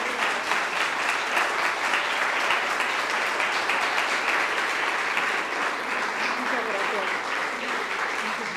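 A crowd gives sustained, even applause for a singer, a thick wash of many hands clapping that continues throughout with faint voices mixed in.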